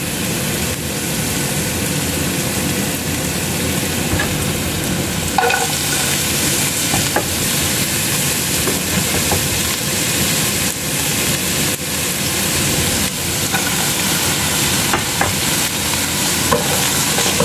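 Garlic and onion sauté in a pan with a loud, steady sizzle and occasional stirring scrapes, and no voice over them.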